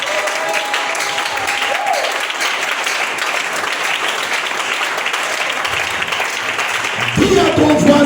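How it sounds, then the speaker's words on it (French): A church congregation applauding and cheering, with dense sustained clapping and crowd noise throughout and a voice rising over it near the end. "Est-ce qu'on peut acclamer le Seigneur Jésus?"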